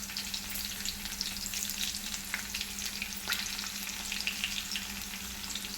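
Curry leaves fry in a pan for dhondakaya (ivy gourd) curry, a steady close crackling sizzle with a few sharper pops throughout and no talking.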